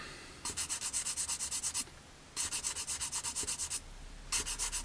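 Sanding across a glued seam on a plastic Kinetic Harrier GR3 model kit: three bursts of quick rhythmic back-and-forth rubbing strokes, close and fairly soft, with short pauses between.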